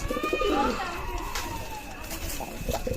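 Pigeons of the Dabala running pair breed, Pakistani stock, coo in soft repeated calls close by, with a voice speaking over them.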